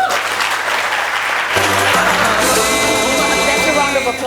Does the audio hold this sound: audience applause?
yes